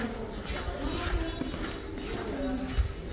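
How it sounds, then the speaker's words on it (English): Horse hooves clip-clop at an easy walking pace on a holiday outing in Rhodes, a steady rhythm of close knocks under people talking. "going to walk with a horse"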